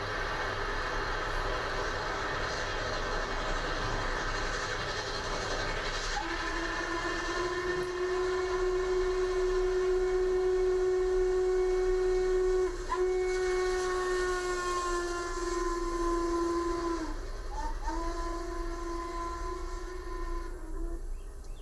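Eastbound 1980s train climbing the Blue Ridge grade near the old passenger station site in Virginia, its steady whistle sounding in long sustained blasts over a continuous rumble and hiss, loud and close, with a brief break before the final blast.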